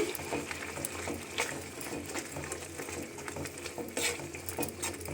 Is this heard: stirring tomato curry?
yes